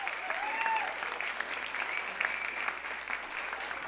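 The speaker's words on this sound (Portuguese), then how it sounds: "Eu quero que você aplauda ao nosso querido Sérgio" A church congregation applauds during a celebration service, a steady wash of clapping from many hands that stays fairly even throughout, with faint voices mixed in.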